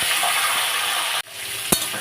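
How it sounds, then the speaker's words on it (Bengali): Oil sizzles steadily in a pan as pointed gourd with salt and turmeric fries, a constant bright hiss broken by a brief pause and a stirring clink. "দিয়ে আমি ভালো করে ভেজে নেব"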